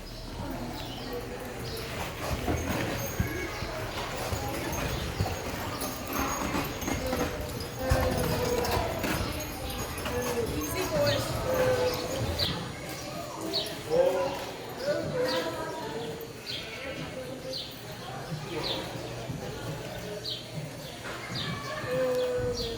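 Belgian draft horses in a four-horse hitch on a farm, their hooves clopping in irregular steps while people talk nearby, with faint birdsong in the background.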